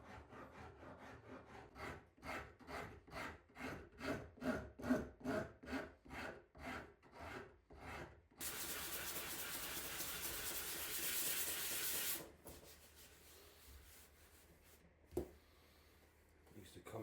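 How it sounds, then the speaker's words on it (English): Hand rasp filing the corners of a cherry wood mallet handle, with a steady run of rhythmic rough strokes that give way to a long hissing scrape and then quieter scratching, close and clear. "I used the rasp on each corner of the handle to round out the middle section."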